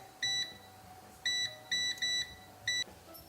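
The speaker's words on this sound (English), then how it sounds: "And we'll just set our timer." A kitchen timer set while peanut butter dog treats bake gives four short bursts of high electronic beeping, spaced unevenly, clear and close in a quiet room with no talk.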